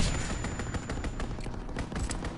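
Rapid, sustained machine-gun fire from an aircraft strafing run in a WWII game, loud and close, with dense overlapping shots and a few sharper bursts.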